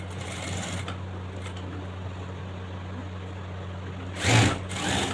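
Sewing machine stitching a fabric pant belt, a steady whirring hum with a brief louder burst near the end.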